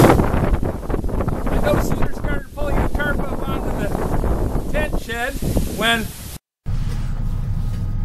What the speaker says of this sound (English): that's just the wind coming in.